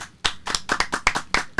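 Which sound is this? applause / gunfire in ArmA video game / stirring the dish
applause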